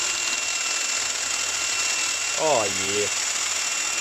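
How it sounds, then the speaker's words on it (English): A power drill fitted with a wire brush, used to strip paint, gives a short rising whine that settles into a brief, steady buzz. Someone speaks briefly just before it. "a drill and a wire brush, see if it takes the paint off"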